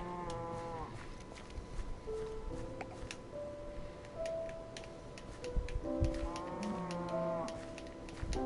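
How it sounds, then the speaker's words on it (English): A cow in the video game Minecraft moos repeatedly, low drawn-out calls at the start and again near the end, with soft rapid ticking clicks running underneath. "Where the hell did that cow come from?"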